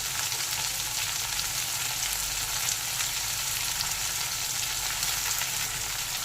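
Bitter gourd frying with chopped onion and green chili: a dense, even sizzle and crackle of hot oil, close and steady with no pauses.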